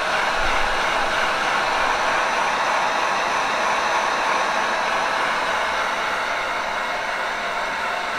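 A heat gun running on full blast while shrinking heat shrink tubing over three strands of rope, a steady loud rushing airflow hiss with no change throughout.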